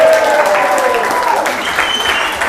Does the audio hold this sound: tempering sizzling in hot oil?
no